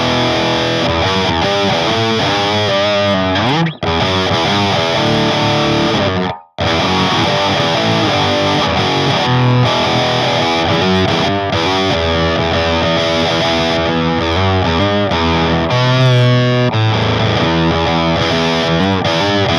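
Electric guitar played hard through a heavily distorted Death Western amp, dense sustained chords and riffs ringing loud and continuous, with two brief cut-offs to silence early on.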